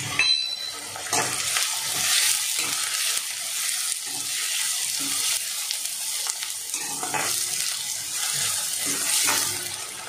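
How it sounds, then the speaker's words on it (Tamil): Onions, green chillies and curry leaves fry in a pan for a coconut fish curry, giving a steady close sizzle throughout with a few stirring scrapes and no talk. "இப்போ இது நல்லா பொன்னிறமா வதங்கி வரட்டும்."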